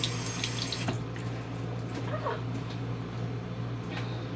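Tap water runs steadily into a bathroom sink while a makeup sponge is wetted, a soft continuous wash that stays near and moderate throughout with no talk over it.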